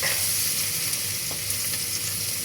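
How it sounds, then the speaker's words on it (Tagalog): Garlic frying in a pan for pork adobo gives a loud, close, continuous sizzle and crackle, with a faint stir of a utensil partway through. "So, i-brownish natin yung garlic."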